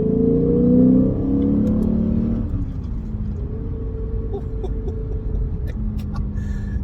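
A Lexus engine is heard close up, revving hard at first and then blipping down through downshifts before falling back to a low, rumbling idle.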